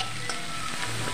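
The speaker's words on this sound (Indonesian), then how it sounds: "tumis, sangrai sampai benar-benar matang dan kering ya." Dried small shrimp sizzle in a little oil in a pan, a steady, close frying hiss with faint stirring scrapes and no talking.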